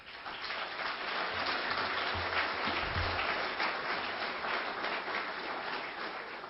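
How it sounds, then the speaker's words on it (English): Audience applause at a presentation on 9/11, a sustained dense roar of many hands clapping at even volume throughout, rain-like in texture, with a faint low voice briefly underneath midway. "So let's give them a round of applause."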